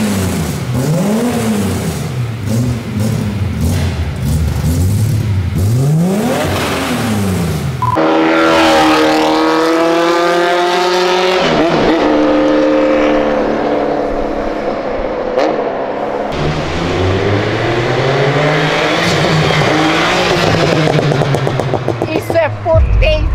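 A Chevrolet Opala's engine revs repeatedly, rising and falling in loud close bursts before a longer sustained acceleration with shifting pitch, with people talking over parts of it.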